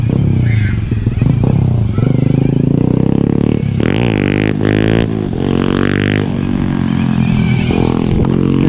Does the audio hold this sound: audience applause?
no